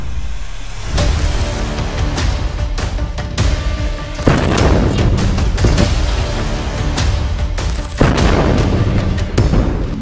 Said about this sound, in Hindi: तभी उनके ऊपर हमास के लड़ाके दनादन रॉकेट फायर कर देते हैं।